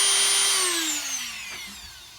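A Dremel rotary tool cutting a slot in a cigar box guitar gives a high, close whine that starts loud and slides steadily lower as it spins down over about two seconds.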